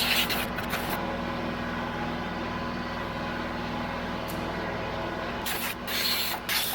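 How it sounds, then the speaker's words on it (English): An air compressor blows out debris on a Kubota with a continuous loud hiss and rush of air, broken by a few short pauses and bursts at the start and end. "Let's get the air compressor and blow all this out real quick."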